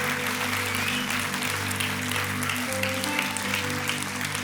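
Applause from a Christmas show audience, a dense steady clatter of many hands clapping in a hall, with a low sustained musical tone underneath and no voices on top.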